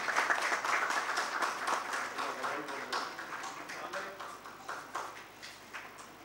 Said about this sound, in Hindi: जोरदार ताली से अभिनंदन करो हमर प्रतिभा मन के।